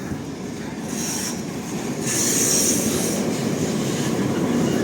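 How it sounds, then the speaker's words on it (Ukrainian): Tram rolling along a street in Lviv, a steady rumble of wheels on rails with high squealing that grows louder as it comes closer, with no voices. "обережно, бо трамвайчик іде"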